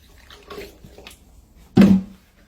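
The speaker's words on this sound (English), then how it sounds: "Rinse out the funnel with just a splash of water." A quick splash of water poured to rinse out a funnel, one short wet burst near the end after faint rustling, close and brief with nobody speaking.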